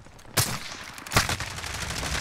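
Two sharp, loud shots ring out from a sniper in a battle royale video game, spaced about a second apart, each with a short echoing tail over a steady background of game noise, with no talking.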